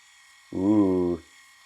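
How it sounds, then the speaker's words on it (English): A GDKLXL 4D Flex waterproof electric shaver running on arm hair, a steady close buzzing hum that starts abruptly, holds for about half a second and cuts off. "So if we wanted to, for example, shave my arm."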